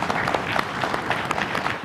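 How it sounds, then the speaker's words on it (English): Audience applauding at the close of the literature session of a Sweden-Korea Nobel memorial program, a brief, full burst of dense clapping from a large hall crowd. "A big applause."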